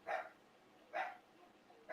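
Dogs barking indoors at a home gathering, three separate sharp barks spaced about a second apart, moderately close, with no talk over them.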